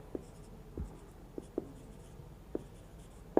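Chalk or marker writing on a board during a maths lesson, a few sparse taps and short strokes spaced irregularly, close and quiet with no talking.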